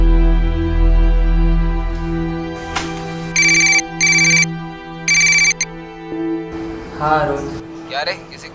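A phone ringtone chimes in bright repeated bursts, three loud rings in a row, over a sustained musical tone, with a voice breaking in just after.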